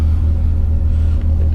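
A project car's engine idles steadily right after its first start, a loud, constant low rumble with no voices.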